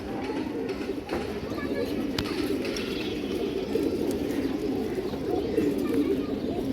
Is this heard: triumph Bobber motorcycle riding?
no